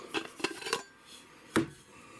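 The cap of a Stanley vacuum insulated large food jar is handled and removed, a few quick metallic clinks and scrapes close up, then a short pause and one sharper knock, with no talking.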